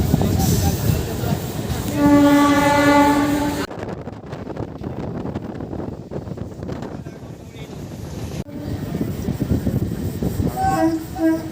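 A Howrah–Purulia MEMU passenger train rumbles along with rhythmic clatter and wind buffeting, its horn sounding loudly near the start and again briefly toward the end.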